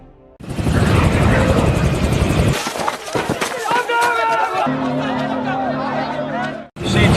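A loud military helicopter thumps and whirs close by in a battle scene from the film Black Hawk Down, with people shouting and talking over the rotor noise.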